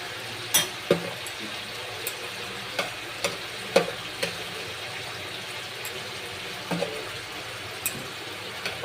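Cashew and onion paste frying in a pan for butter chicken, a low soft sizzle punctuated by irregular scraping and stirring knocks of a spoon.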